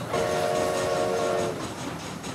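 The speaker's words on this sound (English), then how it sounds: "This train headed for Mexico." A train in The Undead Redemption game rolls loudly with a steady rumbling roar, and a sustained horn blast sounds over it for about a second and a half before the rumble continues alone.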